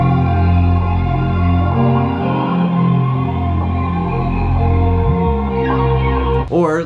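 A music loop sample is slowed to 128 BPM in FL Studio. It plays as a steady, loud, layered texture with a sustained bass and melodic synths, then cuts off abruptly near the end.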